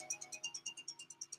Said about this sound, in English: You have a phone call coming in.